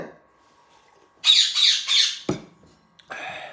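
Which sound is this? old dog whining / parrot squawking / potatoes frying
parrot squawking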